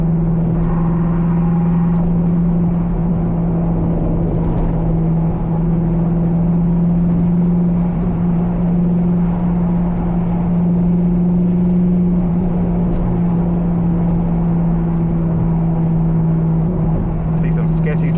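A C5 Corvette cruising on a road, its engine holding a loud, steady drone with constant road and wind noise, while a voice talks now and then over the sound.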